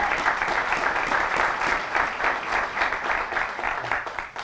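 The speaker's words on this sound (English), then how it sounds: "round of applause" An audience at a youth facility grand opening breaks into sustained applause, dense rhythmic clapping that holds at a steady level throughout with no break.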